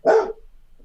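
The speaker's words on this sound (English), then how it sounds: "That was my dog, yeah." A dog gives a single sharp, loud bark close by, which quickly drops off into near silence.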